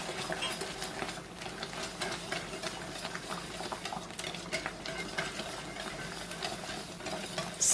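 Cheese being whisked into a sauce in a pan as the heat is turned down, a steady scraping and stirring texture running continuously at moderate level with no talking.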